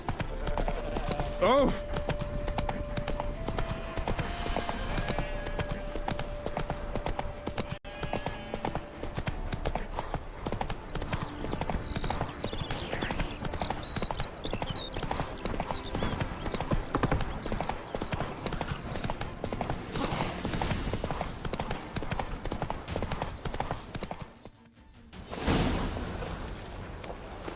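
Roach the horse galloping in The Witcher 3, a steady rhythmic clip-clop of hooves running throughout, with game music and a brief exclamation over it, and a short dropout near the end before the hoofbeats resume.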